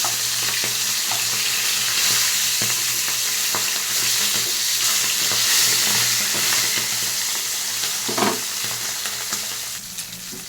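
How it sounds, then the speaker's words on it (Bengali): Hilsa fish heads fry in a pan with a dense, steady sizzle, punctuated by scattered light taps and scrapes of a spatula, easing slightly toward the end. "মাথাগুলো ভেজে নিচ্ছি আমি একটু।"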